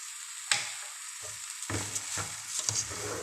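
Grated carrots and sugar sizzle in a pan for gajrela, with a soft frying hiss and a few distinct spatula scrapes as the mix is stirred, close by.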